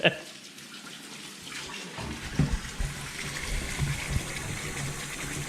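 Water gushing from a tap while hands are washed, a steady splashing rush with occasional knocks, as children's voices talk over it in the background.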